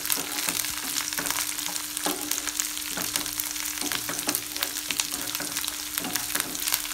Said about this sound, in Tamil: இப்போ எல்லாம் நல்லா மிக்ஸ் பண்ணிவிட்டு ஆனியன் கோல்டன் கலரில் சேஞ்ச் ஆகிற வரைக்கும் மிக்ஸ் பண்ணி விட்டுட்டே இருங்க.